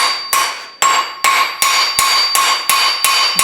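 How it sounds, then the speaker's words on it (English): A ball peen hammer strikes a forged iron wreath hook nine times in a steady, evenly spaced rhythm, each blow loud, sharp and ringing, close up with no talk. "We're going to give it some texture with the ball peen."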